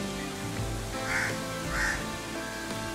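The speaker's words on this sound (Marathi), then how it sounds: "असंख्य पक्ष्यांचे आवाज येत आहेत।" Crows cawing twice in a row outdoors, set against a busy background of other birds and ambient noise.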